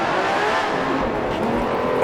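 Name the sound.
race car braking into La Source, Grand Prix Legends video game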